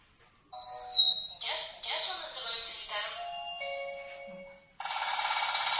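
Electronic bird-call sounds from a children's toy bird game board, giving a series of shrill synthetic chirps and warbling tones, then a steady buzzing electronic trill toward the end, played close and fairly loud with no talk.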